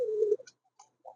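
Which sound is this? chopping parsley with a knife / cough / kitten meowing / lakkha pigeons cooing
lakkha pigeons cooing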